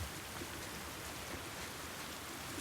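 Rain pouring down inside a building in the video game The Last of Us Part II, a faint, even hiss of falling drops that runs steadily on its own without any voices.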